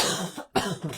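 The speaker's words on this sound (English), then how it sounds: "Oh, that a little cough." A small, soft cough in a quiet room, two brief throat bursts separated by a short pause, close to the microphone.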